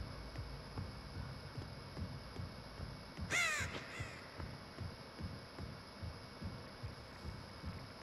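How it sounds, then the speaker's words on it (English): Heartbeat in the horror game Dead by Daylight: steady, rhythmic low thumps pound throughout, with a brief harsh caw-like cry bursting in around the middle. "It's his heartbeat going crazy."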